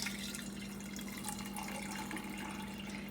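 Soaking water drains off eggplant into a sink, a faint continuous trickle and splash with a low steady hum beneath, unbroken for the whole stretch.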